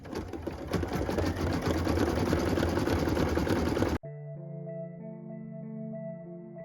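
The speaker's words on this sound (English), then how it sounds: "what we're stitching now is the star accent lines in that beautiful cream color" A sewing machine stitches star accent lines in cream linen thread on a Christmas tree skirt, whirring rapidly and steadily for about four seconds before stopping abruptly, followed by sustained tonal music.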